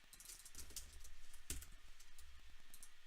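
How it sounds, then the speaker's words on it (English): Rapid typing on a computer keyboard during a game of Dungeon Crawl Stone Soup, close and fairly quiet, a steady patter of key clicks with one sharper tap. "Just press some keys, it's fine."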